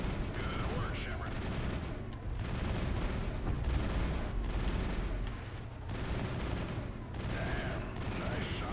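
Continuous gunfire in Mass Effect, a dense, loud barrage of rapid shots and bursts layered under game voices and combat chatter.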